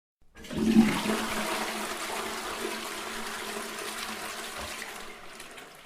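A toilet flushes in one continuous rush of water that starts abruptly, swells quickly, then drains and fades over several seconds, close and alone with no talk.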